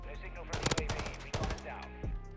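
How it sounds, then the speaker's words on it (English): Rapid pistol fire from a Renetti in the video game Modern Warfare 3, a quick burst of sharp shots followed by further reports, with game sounds and voices mixed in. "What a long shot with the Renetti."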